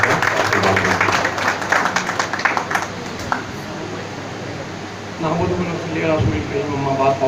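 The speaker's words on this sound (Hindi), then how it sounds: "आपकी पुरजोर तालियों की गुजारिश है" Loud applause rises from an event audience at a gathering honouring Dr. Saud, steady dense clapping throughout with voices talking over it near the end.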